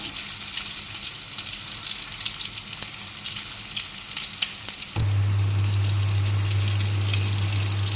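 Soybean muitha dumplings frying in hot oil give a continuous close sizzle, joined midway by a steady low hum, with a few clinks from the pan, and no talk.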